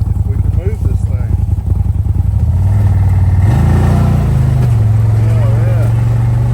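A CFMOTO ZFORCE UTV in low gear and four-wheel drive pushes through snow, its engine droning steadily and rising in pitch midway as it strains forward, with voices faintly in the background.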